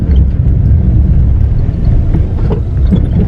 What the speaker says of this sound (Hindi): क्या हुआ गाड़ी में अजीब सी आवाज़ थी।